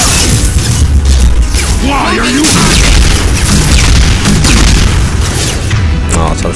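Gunfire and explosions from a Mass Effect 2 battle, a dense, continuous barrage of booms and bursts that stays loud across the whole stretch, with brief voice-like sounds mixed into the fighting.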